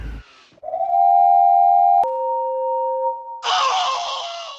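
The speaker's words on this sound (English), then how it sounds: "Soon, all of the engines were blowing their whistles loudly." Cartoon steam engines blow their whistles, a long steady shrill tone that shifts to a second pitch, then breaks into an overlapping chorus of loud whistles close by.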